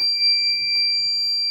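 Reefer truck refrigeration unit alarm, a continuous piercing electronic tone with harmonics sounding steadily, close and loud, with faint low rumbling beneath.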